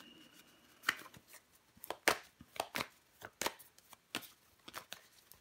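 Tarot cards being handled and laid out on a table make a quiet series of sharp, papery slaps and flicks at irregular intervals, close and soft, with no talking.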